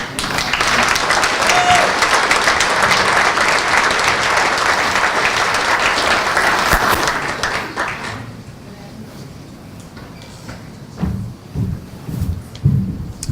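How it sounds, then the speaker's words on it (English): Enthusiastic applause from an audience at a business awards gala, loud and sustained for several seconds before fading into quieter room noise and a few scattered sounds. "we owe her a huge round of applause"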